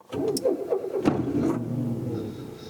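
A Volkswagen Polo III sedan engine is started with a push button, a brief starter crank followed by the engine catching and settling into a steady mid-pitched idle, close and moderately loud.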